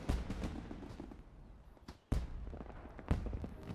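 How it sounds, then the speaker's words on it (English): Fireworks go off in the Final Fantasy XIV online game, with a rumbling mix of bangs and a few sharp booming bursts at fairly close range. "Whoever's lighting them fireworks are really blowing the hell out of them, huh?"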